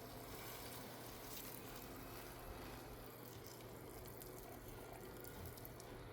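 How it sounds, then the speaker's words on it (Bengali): Water poured onto a potted plant, a steady continuous hiss and trickle at low level, unbroken throughout with no voices. "তো এখন পানি দিই।"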